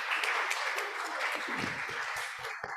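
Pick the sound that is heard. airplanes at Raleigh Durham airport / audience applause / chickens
audience applause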